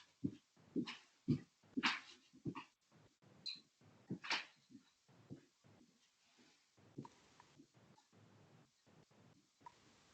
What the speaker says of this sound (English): My dog wants it.